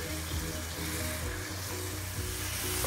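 Carrot halwa stirred and fried in ghee in a pan, a quiet continuous sizzle with faint, regular scraping strokes of the stirring spoon, no speech.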